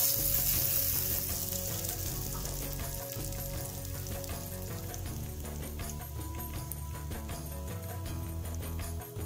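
Spices tempering in hot oil for peanut chutney give a loud, steady sizzle and crackle that fills the whole stretch close up, with faint stirring and no talk.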